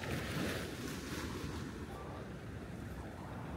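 Night surf rolls onto Haeundae beach in Busan, a broad steady wash of waves under gusty wind noise on the microphone, fairly faint and without talk.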